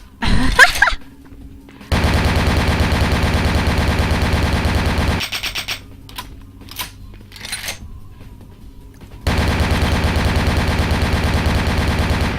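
Automatic gunfire in the video game Vampire: The Masquerade – Bloodlines, two long loud bursts of rapid shots with a quieter gap of scattered clatter between them.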